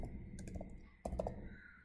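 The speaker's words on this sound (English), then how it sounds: "so I'm just typing" Keystrokes tap on a computer keyboard while entering a plot label in MATLAB, short clicks in two quick bursts separated by a pause, close and fairly quiet.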